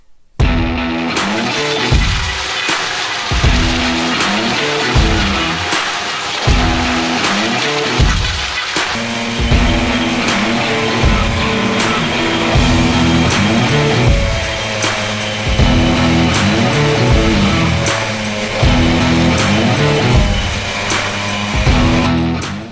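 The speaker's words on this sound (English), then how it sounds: "You can see the machine cutting and chipping the tallest willow into the trailer" A harvesting machine cuts and chips tall willow trees and blows the chips into a trailer, a loud, steady mechanical roar with a continuous engine drone and repeated rhythmic chopping pulses, with no voices.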